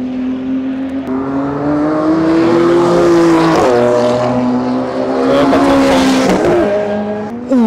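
Race cars roaring around a circuit beside a car show, engines loud and sustained as they rev and pass, with pitch shifts as the cars go by and no talking.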